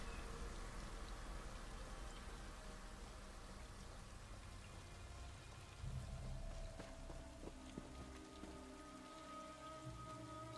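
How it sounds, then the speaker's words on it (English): Steady rain in the Elsweyr video game, a constant soft patter and hiss with faint tonal game ambience running underneath, no voices. "Rain."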